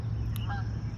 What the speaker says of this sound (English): here's our geese